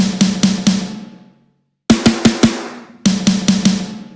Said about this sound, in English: What you're hearing there is the modern and massive snare together with the Andrew Wade sledge snare.